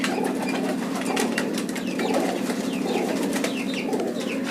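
Pigeons coo steadily nearby while wings flap in bursts, a dense, continuous flock sound with no talking.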